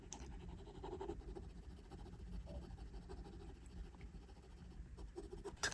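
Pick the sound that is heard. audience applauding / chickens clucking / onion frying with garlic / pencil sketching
pencil sketching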